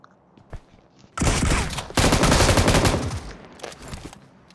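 Automatic gunfire in the mobile battle royale game BGMI, a few scattered early shots followed by two dense bursts of rapid fire, loud and close, then fading into sporadic distant shots.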